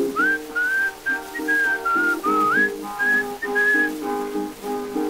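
A man whistles a bright, sliding melody in a 1925 old-time recording, clear and close over a steady accompaniment of low, repeating notes.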